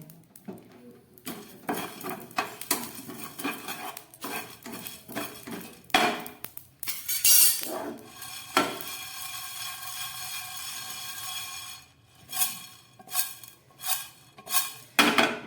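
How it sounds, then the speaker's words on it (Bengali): Cumin and garam masala are dry-roasted in a pan with a spatula, producing irregular clinks, taps and scraping strokes of metal on metal. There are busy bursts and quieter pauses, and no one speaks. "এই সমস্ত ভাজা মশলাগুলো আমি তৈরি করে নিচ্ছি নিরামিষ ঘুগনির জন্যে"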